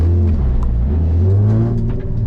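A Nissan 350Z launches hard at the Barbon hillclimb, its engine rising in a loud, close revving sweep as it accelerates, heard from inside the car without talk.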